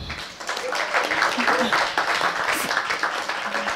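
An audience applauds after an interview, a dense, steady wash of clapping running continuously at moderate loudness with a voice briefly audible underneath.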